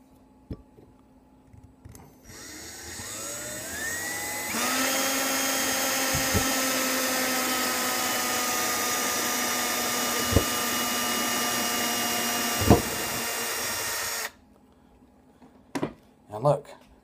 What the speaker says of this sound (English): I'm gonna try to drill a hole in three at a time.